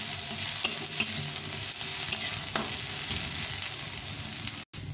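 Nigella seeds frying in a pan with softened ingredients, a steady bright sizzle with occasional stirring scrapes and clicks, close and continuous, no talking.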